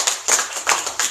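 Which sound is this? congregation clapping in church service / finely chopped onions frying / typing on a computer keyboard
congregation clapping in church service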